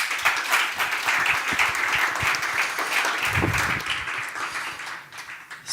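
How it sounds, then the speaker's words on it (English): Audience applause at a startup accelerator graduation event in Bilbao, steady dense clapping from a room full of people lasting several seconds before tapering off, with a voice briefly audible underneath. "Big applause for Ilya."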